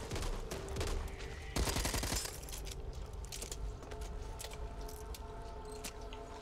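Rapid gunfire bursts from a zombie shooter game, Back 4 Blood, dense and continuous with a sharper volley around the middle, over busy game noise.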